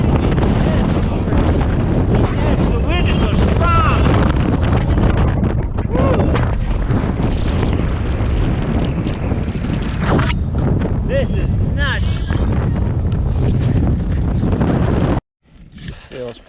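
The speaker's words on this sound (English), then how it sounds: "you got one of those giant wind blasts with all the ice coming over too" Strong, cold wind roars on a mountain near Squamish with ice blowing over, a loud continuous blast buffeting the microphone before cutting out abruptly near the end.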